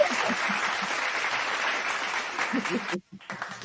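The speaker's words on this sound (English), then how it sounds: "very clapping, very applause" Applause from a live studio audience, dense and steady for about three seconds, then breaking off abruptly into a brief gap before a few scattered claps and voices resume.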